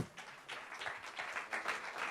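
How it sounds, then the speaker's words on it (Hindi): A crowd claps steadily, a dense crackle of hands that swells slightly and holds for a couple of seconds. "Guys, a huge round of applause please."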